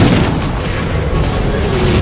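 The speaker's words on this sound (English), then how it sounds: "The Americans fire mortars to try and stop the second wave of tanks." Heavy mortar fire in a Vietnam War tank battle, a dense, continuous low rumble of booming blasts rolling together at close range, loud throughout, with no clear gaps between detonations.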